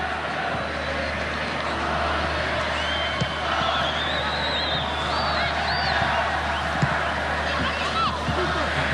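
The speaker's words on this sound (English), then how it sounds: "Atmosphere picking up inside the stadium." A stadium crowd keeps up a steady roar with occasional whoops during an under-17 women's World Cup football match between Mexico and New Zealand, while a commentator talks over it.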